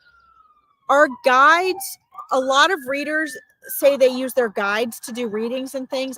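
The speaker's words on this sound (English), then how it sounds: "Sorry about the sirens" Emergency vehicle sirens wail faintly outside in the distance, the rising and falling tone running beneath a person talking steadily up close.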